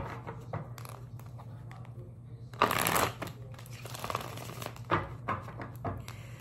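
Tarot cards being shuffled by hand, a run of quick papery riffles and soft flicks with a couple of louder bursts, close and alone without talk.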